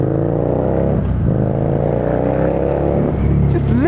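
A 2018 Harley-Davidson Street Rod 750 motorcycle engine runs loud and close, a steady throbbing rumble with a slight rise in revs near the end.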